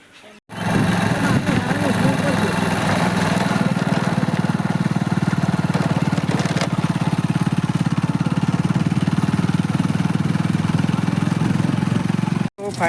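A motorcycle is ridden on the road, apparently a newly bought bike. Its engine gives a loud, close, steady drone that runs almost unbroken from start to finish.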